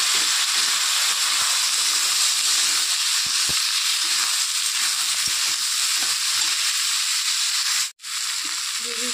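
Cut eggplant, potato and green chili frying in a pan give a loud, steady hissing sizzle that runs throughout, with a brief dip near the end and a few faint knocks beneath.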